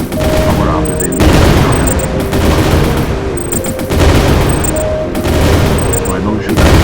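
Gunfire from a player shooting enemies in the video game Crystal Rush, rapid bursts of shots repeating in loud, dense volleys over the game's background noise, with a few short electronic tones in between.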